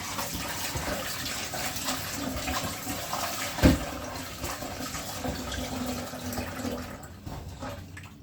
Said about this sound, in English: Then I'm gonna go ahead and rinse it off one more time.